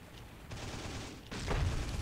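A light tank in the World War II game Heroes and Generals fires in heavy, rumbling bursts of gunfire, a few close blasts over a dull battlefield din.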